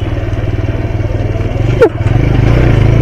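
A motorcycle ridden along a road, its engine throbbing in a loud, steady pulsing rhythm close to the mic, with a brief sharp clatter or squeak partway through before the engine note rises slightly.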